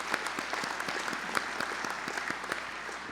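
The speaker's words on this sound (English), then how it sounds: "Please join me in applause." Audience at a medical school commencement applauds in a sustained, even wave of clapping with individual claps standing out, heard alone without speech.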